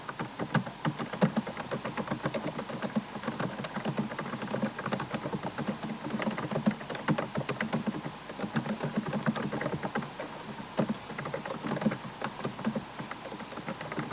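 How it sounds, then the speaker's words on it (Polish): Fast, continuous clicking of keys on a Sony Vaio SVE laptop keyboard while typing into a notepad, quiet and close, with irregular rapid keystrokes throughout. "No słychać tę klawiaturę mm, dosyć y, wyraźnie"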